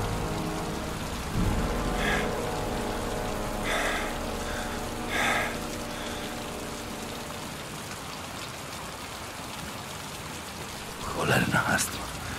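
Rain falls steadily throughout in the video game Heavy Rain on PC, with a few brief louder bursts and breathy sounds near the start and end, no clear talking.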